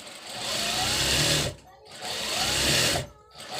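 Sewing machine stitching a pair of trousers in two bursts, each about a second and a half long, with a short pause between them. The whirring is steady and close.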